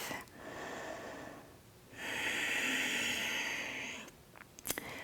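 A yoga practitioner's slow full breathing cycles, first a soft inhale, then a longer, louder hissing exhale through the nose or mouth, close and alone, ending with a short sniff.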